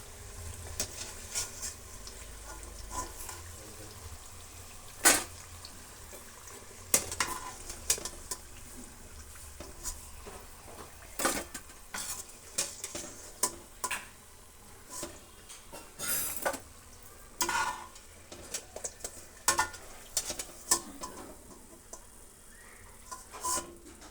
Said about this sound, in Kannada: ಎಲ್ಲನೂ ಈ ರೀತಿ ಡೀಪ್ ಫ್ರೈ ಮಾಡ್ಕೊಂಬಿಡೋಣ